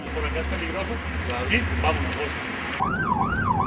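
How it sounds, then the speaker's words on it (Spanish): Police sirens wail through Bogotá streets, a wavering emergency tone that swells into a clear up-and-down siren sweep near the end, with voices talking underneath. "Las sirenas y los radioteléfonos no dejaron de sonar durante esas nueve horas."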